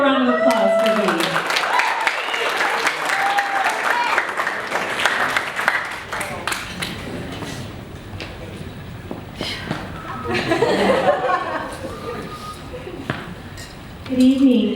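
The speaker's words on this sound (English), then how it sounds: "let's have a round of applause for Bee" Wedding reception guests break into a round of applause for the maid of honor, a long steady patter of many hands mixed with cheers and voices that swells again near the end.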